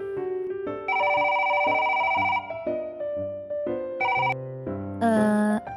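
A melodic ringtone-style ringing plays steadily for several seconds as a phone call is placed in a dubbed Ejen Ali cartoon scene, with shifting tonal notes and no talk over it.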